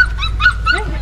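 A dog lets out a quick run of short, high barks and yips close by, about three sharp calls within a second over a low steady hum.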